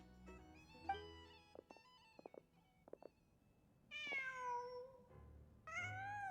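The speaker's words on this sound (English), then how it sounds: "Just a cat." A cat in the video game Genshin Impact meows twice, clear and close, after some soft tapping and clicking sounds, with no talk over it.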